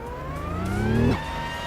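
A glitched car engine sound in a video game, a droning tone that rises as if accelerating, then drops abruptly and keeps droning, with a whiny, aircraft-like quality.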